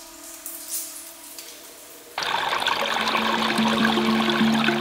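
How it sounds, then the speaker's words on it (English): Spring water rising from deep underground in the Bohemian Karst, first faint under a quiet hum, then a sudden steady gush of flowing, trickling water that swells slightly louder and stays close. "Water from deep underground reaches the surface"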